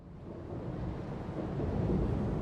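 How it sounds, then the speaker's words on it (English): Low, rolling thunder mixed with a breeze sweeping through the streets of Central Yharnam in Bloodborne, a dense, steady rumble that grows slightly louder over a couple of seconds with no voices. "There also seems to be the sound of thunder as if a storm is approaching."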